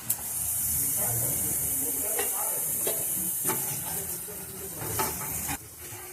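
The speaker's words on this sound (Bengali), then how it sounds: "আদাটা দিয়ে মশলাটা একটু ভালো করে কষবো" Spices with turmeric, chili powder and ginger sizzle and hiss in a hot pan while being stirred for a fish curry, a steady frying crackle with scraping stirs and a voice speaking over it.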